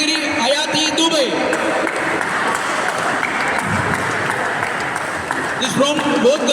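Applause for a champion at a Gujarat state badminton championship ceremony, a dense wash of clapping running steadily throughout with crowd murmur and some voices mixed in.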